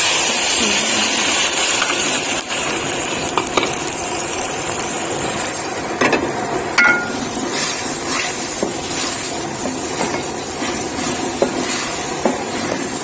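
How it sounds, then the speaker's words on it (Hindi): Chopped onions sizzle in hot oil in a home kitchen pan, a dense steady hiss lasting throughout with occasional scraping clinks from stirring. "ऑयल हमारा गर्म हो चुका है और हम चॉप किए हुए प्याज ऐड कर लेते हैं"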